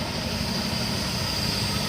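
A truck engine idles close by at a truck stop, a loud, steady, unbroken rumble with broad noise and no change in pace.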